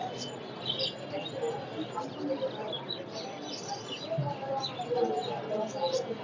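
Fancy pigeons at a busy bird market in Mirpur, Dhaka, make faint coos and chirps within a dense crowd murmur, with people talking throughout.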